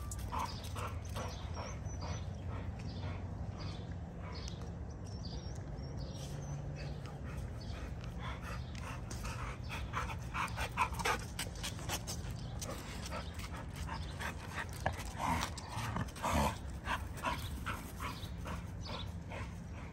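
Dogs at a kennel bark, yip and whimper on and off over a steady background, with a voice heard faintly now and then.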